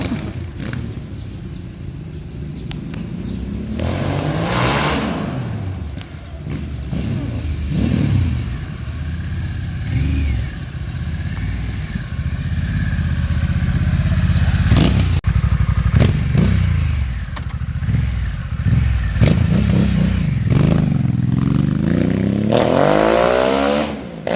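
A Harley Davidson Sportster S fitted with a modified exhaust pipe revs up repeatedly at close range, deep crackling roars rising and falling in bursts over a rumbling idle.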